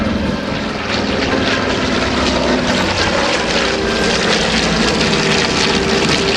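A B-25 Mitchell bomber roars past on a final pass at an airshow, its piston engines and propellers producing a loud, continuous, rumbling drone that holds steady throughout with no talk over it.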